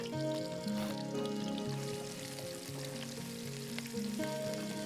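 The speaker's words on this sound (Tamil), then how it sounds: "பூண்டு போட்டு நல்லா வறுத்தெடுத்தா அதோட மனம் வந்து நல்லா கிடைக்கும்" Garlic frying in oil with mustard seeds, fennel and dried chillies, a soft continuous sizzle close by, quiet and steady, with faint tonal hum and light background noise over it.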